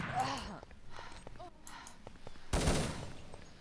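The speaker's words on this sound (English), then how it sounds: "Good pre-fire from both players" Gunfire from a 2v2 tournament match of a competitive shooter game, players pre-firing around a corner: short bursts of shots early on and a denser loud volley near the end, with a commentator's voice running over the shooting.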